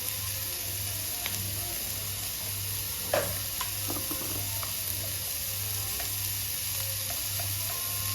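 Masala bread upma with salt and turmeric is stirred in a hot pan, giving a steady sizzle and hiss with a spatula scraping now and then and a faint periodic hum underneath.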